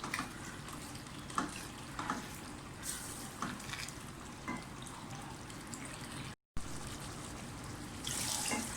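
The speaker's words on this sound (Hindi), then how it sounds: "4 ग्लास पानी डालूँगी इसमें।" Water pours steadily into a cooking pot of black chickpea soup, a continuous splashing rush close by, with a brief pause and the stream picking up again.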